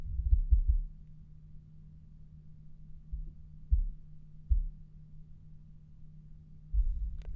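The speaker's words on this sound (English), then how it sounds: "That's my heartbeat. Listen." Low, muffled thumps of a heartbeat picked up through a microphone's pop filter where an arm rests on it, coming in irregular pairs and clusters beneath a steady electrical hum, with no talking.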